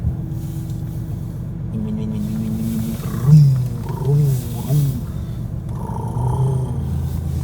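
A Porsche 911 engine roars at close range, rising in several revving surges over a steady low rumble. The revs swell and fall in a few strong bursts, loud and alone with no talk over them.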